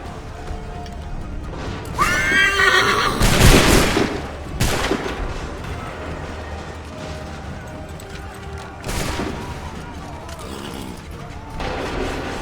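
Musket volleys crack out in the Assassin's Creed 3 video game, several loud bursts of massed gunfire with clattering mechanisms and battlefield noise, while commands are shouted between the shots.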